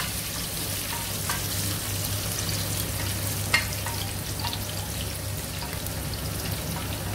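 Onions sautéing in hot oil in a pan for Filipino ginisang munggo, a steady soft sizzle and crackle throughout with an occasional utensil tap, no voices.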